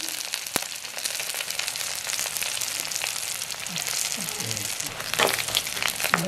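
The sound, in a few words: mustard seeds and dried red chillies sizzling in oil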